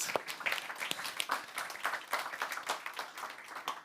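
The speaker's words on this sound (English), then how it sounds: "yes, we can applaud Joyce and Britt" Attendees at a medical educational symposium on fungal exposure in Rennes applaud the organizers, a sparse, fairly quiet patter of individual claps heard from a distance.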